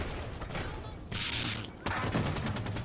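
Rapid, dense gunfire from the Halo 5 video game: sustained bursts of automatic shots close and loud, with a brief change in tone midway and a heavier volley toward the end.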